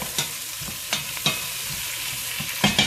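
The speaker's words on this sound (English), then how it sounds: "So I'm going to give this a stir" Ingredients for a tomato soup, made with Old German tomatoes and purple bell peppers, sizzle steadily in a pot while a spoon stirs them, with several sharp scraping knocks breaking through the frying hiss.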